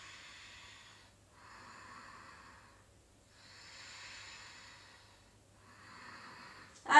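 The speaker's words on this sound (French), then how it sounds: "Quelques respirations ici." Slow, audible breaths during a dynamic yoga flow: four long airy exhales and inhales in an even rhythm, close and soft, with a sharper sound at the very end.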